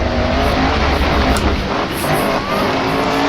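Race car engine in the Assetto Corsa racing game during a wet-weather lap, droning loudly and steadily throughout with a slight dip in pitch as it shifts down a gear, no voices present.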